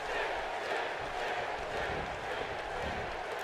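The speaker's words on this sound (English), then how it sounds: "There's a Sting chant going." Virtual arena crowd in a WWE 2K16 wrestling match chanting for Sting, a dense continuous roar of many voices at steady loudness with no clear pauses.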